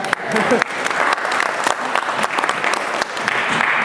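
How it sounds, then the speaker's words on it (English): Steady applause from an audience at a conservative political gathering, a dense, continuous wash of claps with a few sharper individual hits, fairly close and loud throughout, with some voices mixed in underneath. "That's right, you could clap."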